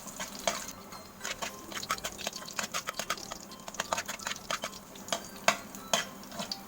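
Garlic browns in a hot pan with a continuous crackling sizzle, broken by frequent sharp stirring scrapes and clicks of a utensil, close and without talk.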